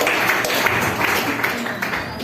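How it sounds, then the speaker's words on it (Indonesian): Audience applause at a Bali stand-up comedy show, a continuous loud mass of clapping from a crowd, with voices mixed in faintly underneath. "tepuk tangan buat pintu"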